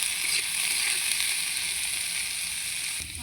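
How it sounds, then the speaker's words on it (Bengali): Potatoes, carrots and beans fry in a pan for chow mein, giving a steady, close, fairly loud sizzle that stays even throughout and drops a little right at the end. "এবার এইগুলোকে একটু ভেজে নেব।"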